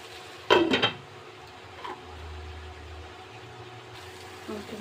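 A metal lid is set onto a cooking pot of chicken pasta sauce, giving a brief close clatter of clanks, followed by a quieter low hum and a faint later knock.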